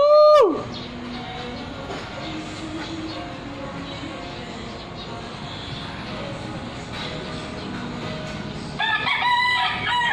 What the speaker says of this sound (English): Ito yung manok kumakanta, oh.